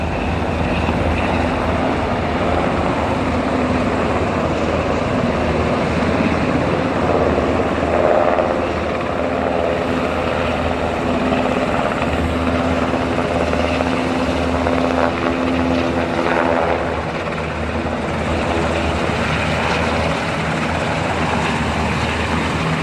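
A helicopter's rotor and engine drone runs steady and loud for over twenty seconds with no talking, the dense roar barely shifting in level.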